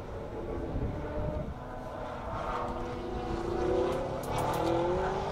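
A Toyota Corolla AE86 race car with an F20C engine, driven by Voodoo Racing on the Circuit of the Americas track, gives a rising and falling engine drone that swells as it comes closer and shifts pitch, with no speech.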